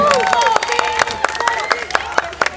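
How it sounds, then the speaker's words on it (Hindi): Guests at a ring ceremony clap in a brisk, rhythmic beat, sharp claps repeating several times a second while voices or music carry on alongside. "तो थोड़ी तालियां भी बजाइए इनके लिए"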